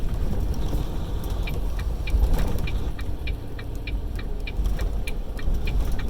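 A truck slowing down on a slick turnpike ramp between Oklahoma City and Tulsa, with a steady low engine rumble and road noise, plus faint regular ticking over the top, heard from inside the cab.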